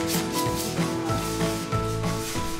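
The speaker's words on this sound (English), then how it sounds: "Then it was time to sand." Hand sanding of wooden dollhouse pieces, repeated rhythmic back-and-forth rubbing strokes close by, steady and fairly loud.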